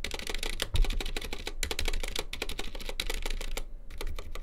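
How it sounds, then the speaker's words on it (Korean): Mechanical keyboard with an untuned, rattling stabilizer on a large key, likely a shift key on a COX Pinnace board, miked up close: rapid repeated clacks with a tinny jingling rattle, loud and continuous, with no talking. "안 잡은 거 엄청 짤랑짤랑거리죠, 그쵸?"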